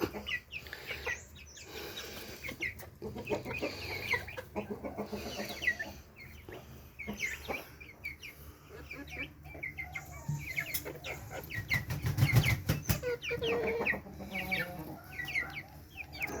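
A flock of chickens with a few black chicks mixed in, clucking and peeping continuously nearby, with overlapping calls and a louder burst of activity partway through, no speech.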